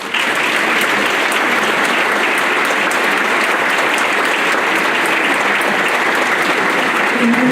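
Steady, loud audience applause fills a college-day event hall as a speaker is welcomed to the podium, sustained dense clapping throughout with no talk on top.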